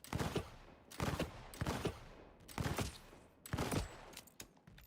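Gunfire from the video game Onimusha: Way of the Sword rattles out in four loud, dense bursts, spaced roughly a second apart, with no talking over them.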